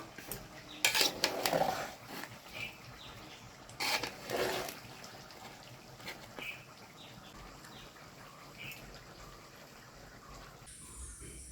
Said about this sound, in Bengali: এখন আবার একটা নাড়া দেই।